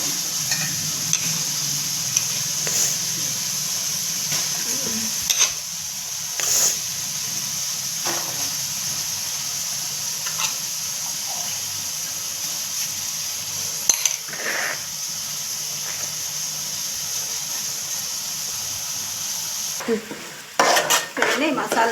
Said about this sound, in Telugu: చూడండి మసాలా రైస్ అంతా బాగా కలబెట్టేయాలండి.